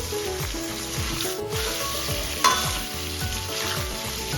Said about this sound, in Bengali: দেখেন কুয়াশ আলু আর পনিরটা পুরো ভাজা হয়ে গেছে।